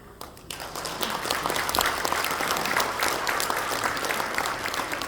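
A church congregation breaks into applause for the pastor, beginning after a brief pause and building to steady, full clapping across the hall for several seconds.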